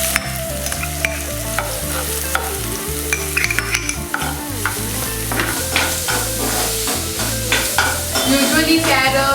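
Vegetables with carrot for spring rolls are stir-fried in a hot pan, giving a loud, steady sizzle with repeated scraping and tossing of a spatula over background music.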